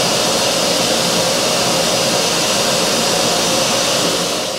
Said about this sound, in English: old Black & Decker power file.